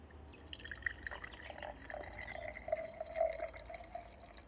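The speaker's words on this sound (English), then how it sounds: "let's give it a bit of a pour" Fermented raspberry soda pours and trickles into a glass, with small drips and fizzy splashes, quiet and close outdoors with no talking.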